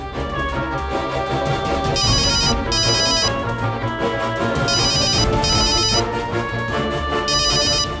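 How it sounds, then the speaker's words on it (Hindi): A telephone rings in repeated electronic trilling bursts, fairly loud and steady, over a continuous tonal background. "दूसरा अपना वरुण, उसके फोन पे फोन डाला।"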